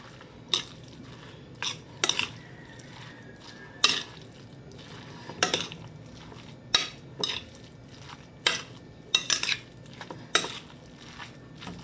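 Lumpia shanghai filling being mixed in a bowl, with a utensil clinking and scraping against the sides in irregular bursts, close up over a quiet background, with no talking.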